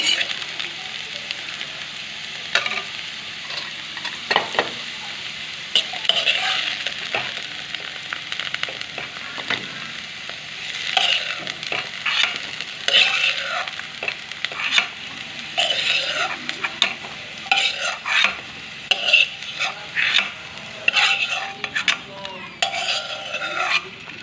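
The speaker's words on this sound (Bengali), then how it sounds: "বেগুনটা ভাজা হয়ে যাচ্ছে নামিয়ে নেবো" Potato and eggplant pieces fry in oil in a pan while being stirred, a steady sizzle broken by repeated scraping and clinking of a utensil, with some talk in the background.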